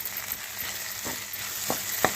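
Mashed raw banana stirred into a frying onion tempering in a pan, a steady sizzle broken by a few scraping stirs of the spoon, close and clear with no one talking.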